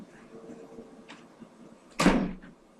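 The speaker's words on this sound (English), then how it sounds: "Let me close the door so you don't hear the fan." An indoor door is pushed shut, a single close, sharp thud near the end after some quiet shuffling and handling sounds.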